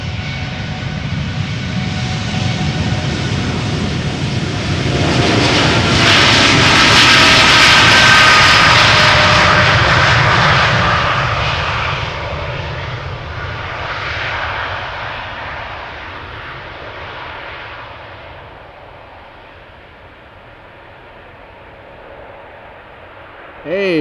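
TUI Boeing 787 Dreamliner, ten years old, taking off at Amsterdam Schiphol, a loud, close engine roar that swells to a peak, then slowly fades into the distance.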